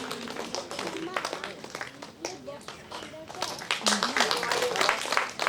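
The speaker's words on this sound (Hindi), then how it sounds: "आप लोग जोरदार तालियां कीजिए कृपया" Audience clapping at a Mopin festival celebration in Ruksin, a dense and uneven patter of many hands that swells louder toward the end, with voices mixed in.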